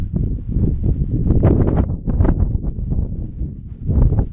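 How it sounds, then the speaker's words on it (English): Wind gusting across a lake during kayak fishing, a steady rushing buffet that swells and dips close to the microphone, with no talk. "I keep getting pushed out by the wind"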